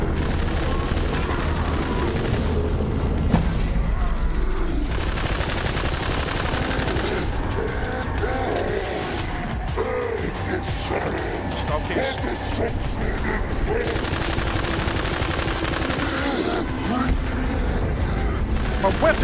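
Continuous video game weapon fire in Psycho Krieg and the Fantastic Fustercluck, with rapid bursts of gunshots and booms running steadily and loud throughout, with a voice talking over it at times.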